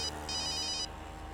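A telephone rings with a bright, warbling electronic tone in short bursts over a low background hum.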